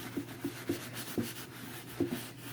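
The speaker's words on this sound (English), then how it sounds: "So I'm going to rub it in." Wax being rubbed by hand into Venetian lime plaster: soft, steady scuffing strokes with a rhythmic series of faint dull taps, close and quiet, with no voices.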